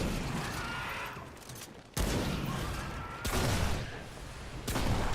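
Sniper rifle shots in Remnant 2, several heavy, booming reports spaced a second or so apart, each followed by a long rolling decay over a constant background.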